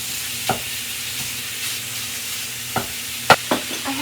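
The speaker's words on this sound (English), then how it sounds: "We're just going to break the sausage down and fry it up" Broken-up sausage fries in a pan with a constant hiss of sizzling fat, punctuated by a handful of utensil scrapes and taps, one louder knock near the end.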